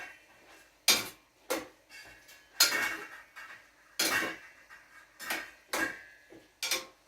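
A cooking pot on a stove is checked, giving a series of sharp, close metallic clanks and clinks of lid and utensil, spaced irregularly in a quiet kitchen.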